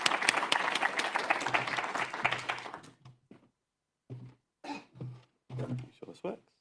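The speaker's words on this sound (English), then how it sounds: "Big round of applause for David." A crowd applauds loudly for about three seconds, the clapping dense and steady before fading out, followed by a few scattered short sounds and a voice.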